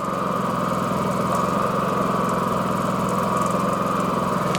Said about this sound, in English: at idle with no load, this generator is very quiet as these things go.